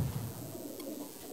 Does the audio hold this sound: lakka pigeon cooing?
yes